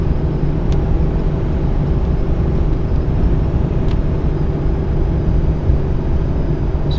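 Ram 5500 truck with 4.88 gears cruising on a freeway at speed, a steady loud drone of engine, drivetrain and road noise with no break, heard from inside the cab.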